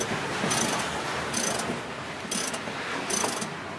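A ratchet wrench turns car seat bolts during interior removal on a drift project car, four short bursts of rapid clicking spaced about a second apart, close and clear over a faint background hum, with no talking.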